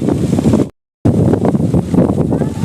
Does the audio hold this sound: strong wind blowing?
yes